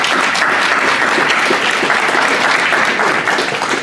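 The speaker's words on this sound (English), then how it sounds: "Round of applause for our candidates," A dense, loud wall of clapping fills a hall as a student union audience applauds its election candidates. The sound is steady and continuous throughout, with only faint voices beneath it.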